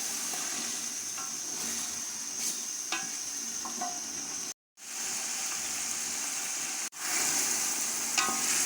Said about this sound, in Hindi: 3 से 4 मिनट हमने चनों की भी अच्छे से भुनाई कर ली है।